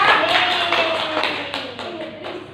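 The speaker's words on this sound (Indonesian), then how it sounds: "Tepuk tangan Dila." A burst of hand clapping from a small group, steady and fairly close, thinning out toward the end.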